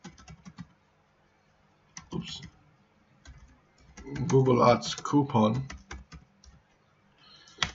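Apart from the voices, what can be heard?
typing on a computer keyboard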